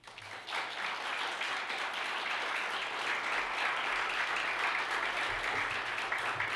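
An audience applauds to welcome Federal Reserve Board Governor Jerome Powell, with dense, steady clapping from a large crowd that holds at an even level throughout, no voices over it.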